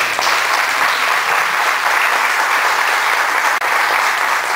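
Loud, dense applause from an audience at a domestic technology course in Jocotepec welcomes the host, a steady wash of clapping close by that runs throughout.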